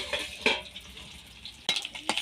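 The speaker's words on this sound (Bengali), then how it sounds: "তেলটা গরম হয়ে গেছে, এবার পাবদা মাছগুলো আমি হালকা ভেজে নেব।" Pabda fish fry in hot oil in a covered pan, a low steady sizzle broken by a few sharp clinks of a utensil against the pan, with no voices.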